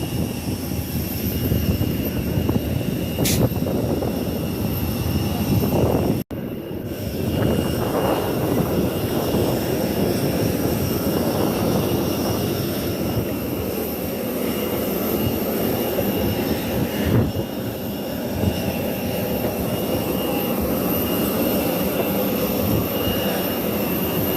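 A steady, loud roar of Air Sial airliner jet engines fills the air at the airport, a continuous whine and rumble holding throughout with no talking.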